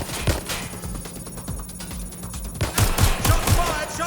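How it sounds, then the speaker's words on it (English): Gunfire in the video game Watch Dogs: Legion: rapid bursts of automatic shots, close and loud, with a dense volley near the start and another run of sharp shots toward the end. "Shots fired! Shots fired!"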